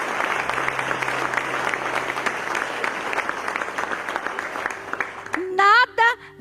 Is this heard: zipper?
no